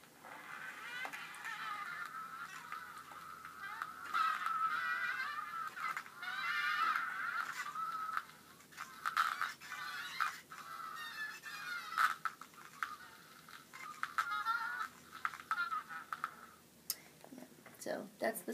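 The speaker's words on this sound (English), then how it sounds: "So that's the sound of not being able to actually follow the same track of music" A homemade acoustic gramophone with a heavy aluminum foil diaphragm funnel skips across a record, producing faint, tinny, warbling music broken by scratchy clicks and jumps, thin and distant throughout.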